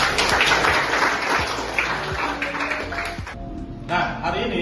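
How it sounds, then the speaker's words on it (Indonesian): Classroom applause for a student's ChatGPT-made poster, a dense wash of clapping from a group that runs steadily for several seconds before briefly thinning and resuming. "Tepuk tangan dulu buat."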